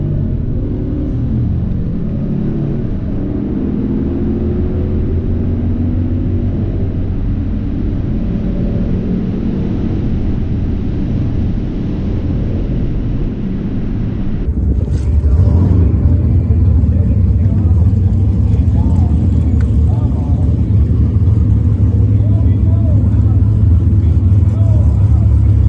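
Cadillac Escalade on a drag strip: steady loud engine and road rumble throughout, surging to a heavier, louder roar partway through as it accelerates.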